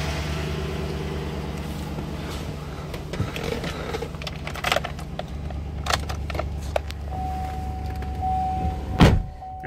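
Power window motor in a 2012 Chevrolet Suburban: a steady electric whine and hum runs for several seconds with light clicks, ending in a sharp thump as the window stops.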